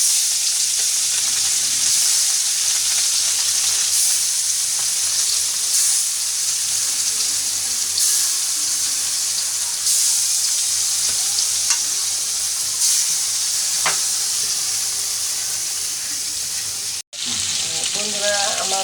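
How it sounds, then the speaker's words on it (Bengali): Rohu fish pieces sizzle steadily as they are stir-fried in a wok, with a continuous loud frying hiss, occasional stirring scrapes and a brief clatter near the end. "কষাই নিই মাছটা।"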